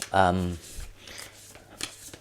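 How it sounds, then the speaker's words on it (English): Soft rustling and riffling of oracle cards being shuffled close by, following a brief voiced sound at the start. "you can't see me shuffle the card, but you can hear the sounds, right?"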